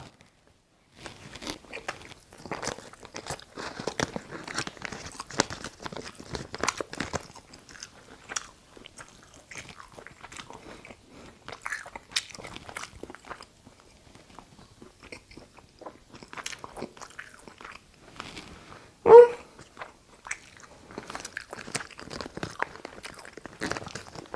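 Close, sparse bites and chewing on Ezy Taste minced chicken breast ham, soft crunchy ticks and smacks repeating irregularly through near silence, with one louder snap near the end.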